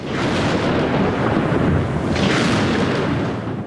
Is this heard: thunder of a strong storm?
yes